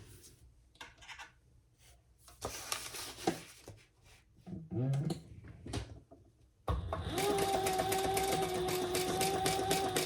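A sewing machine stitches a vinyl seam for a crossbody bag, starting up after about seven seconds of handling noises and then running steadily and loudly in a continuous whir, alone without talk.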